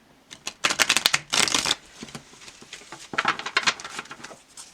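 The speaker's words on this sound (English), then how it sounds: "They're not quite the exact same size, so they shuffle a little bit weird sometimes." A double deck of mixed Tim Burton and historical fashion playing cards, not quite the same size, is riffled in several quick bursts of fluttering, snapping card noise, close up and without speech.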